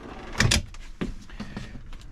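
A drawer in a camper van built for bike and canoe trips slides open with a quick double clatter, then a couple of softer knocks follow as it settles.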